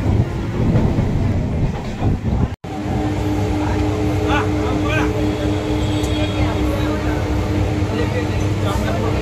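A passenger train crosses Jubilee Bridge over the Ganges, a steady loud rumble of wheels on rails with rhythmic clatter from inside the carriage, one brief dropout near the start and voices mixed in.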